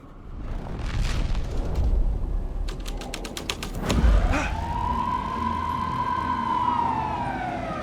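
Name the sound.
police car siren in the video game Alan Wake 2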